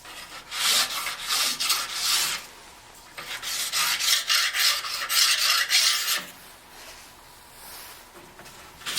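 A file rasps along the steel edge of a new ski in a series of long, even strokes, close and fairly loud with short pauses between passes.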